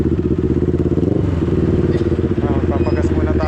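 A motorcycle engine idles and revs nearby, a throbbing, rhythmic putter with rattly clatter, while a voice talks over it.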